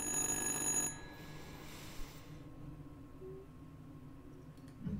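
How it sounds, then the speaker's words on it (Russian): Cordless telephone in Little Hope giving one short electronic trill that cuts off abruptly, followed by a quiet, dark ambient hum with a few faint knocks. "Что, телефон без провода зазвонил?"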